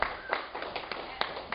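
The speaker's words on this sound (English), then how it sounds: "Let me hear a round of applause." Audience applause at a stand-up comedy show comes as sparse, scattered claps rather than a full ovation, moderately close.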